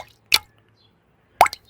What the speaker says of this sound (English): When the water is falling in small drops,